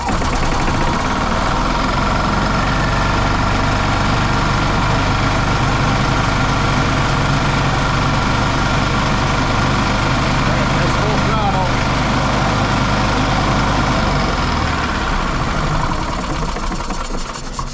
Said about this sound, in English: Wow, this motor sounds good.